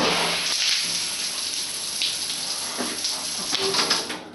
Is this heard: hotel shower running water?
yes